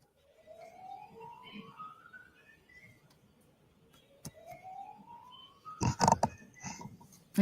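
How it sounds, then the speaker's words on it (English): A faint siren, apparently a Massachusetts police siren, sweeps upward in slow rising wails, repeating twice over quiet background, followed by a few sharp knocks and clatters near the end. "The little siren thing."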